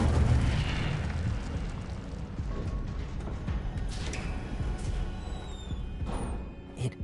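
An Incendio fire spell erupts in Hogwarts Legacy, a loud roaring burst at the start that settles into a sustained crackling, whooshing rumble with scattered pops, no talking.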